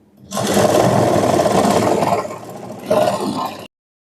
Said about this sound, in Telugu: ఈ లేయర్స్ అన్నీ ఒక హాఫ్ ఇన్ ఒక ఫైవ్ సెంటీమీటర్స్ వరకు అయితే స్టిచ్ చేసుకుంటున్నాను